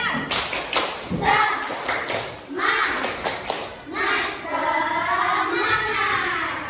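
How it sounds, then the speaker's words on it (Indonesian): Children in a classroom perform a rhythmic spirit clap, loud near claps and slaps in patterned bursts mixed with chanting young voices, continuing throughout. "Tepuk semangat."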